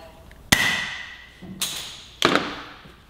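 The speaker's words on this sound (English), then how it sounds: "Pop that stock grip off." Compressed air blasts from a compressor pop the stock grip off a Kawasaki Ninja 400 handlebar. Three sharp, close bursts each begin with a hard pop and trail off in a hissing rush.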